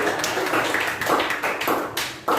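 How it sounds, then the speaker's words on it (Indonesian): A classroom group claps hands in a short round of applause, the claps arriving as uneven, overlapping bursts at moderate loudness. "Tepuk tangan dulu dah."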